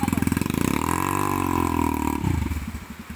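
An off-road Rusi enduro trail motorcycle idles close by, its engine throbbing steadily and rising briefly in a revving swell before settling back to an uneven, sputtering idle, with faint voices in the background.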